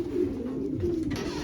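Racing pigeons in a loft give soft, low cooing calls close by, a short murmuring burst with no voices over it.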